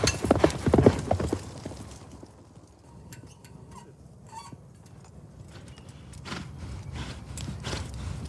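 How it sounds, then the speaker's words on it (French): Horses gallop along a long yabusame mounted-archery track, their hoofbeats loud and close at first, then fading into the distance before a fresh run of clip-clop returns toward the end. "Les cavaliers doivent galoper sur une piste longue de plus de 200 mètres"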